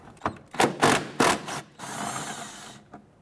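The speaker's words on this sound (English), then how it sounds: "I'm going to go ahead and loosen and remove those." Two 10mm bolts on a 1992-1996 Toyota Camry 2.2L are loosened with a ratchet and removed, giving a few quick clicking bursts and then a longer whirring spin, all close up with no talk.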